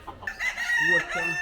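A black rooster in Kingston, Jamaica crows once, a close, loud, drawn-out call lasting about a second after a couple of short clucks.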